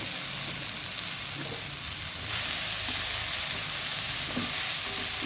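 Fried pumpkin and potato pieces going into a frying pan: a steady broad hiss of hot oil that swells louder partway through as the pieces land, with faint scrapes, continuous and close.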